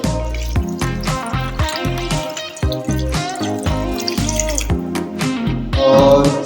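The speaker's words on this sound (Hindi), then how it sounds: "अब मटन को मज़ीद गलाने के लिए इसमें ऐड करूँगा मैं 1 मग पानी का।" A mug of water poured into a wok of Shinwari mutton karahi cooking over high heat, a steady close splashing and gurgling that swells louder near the end, with no talk.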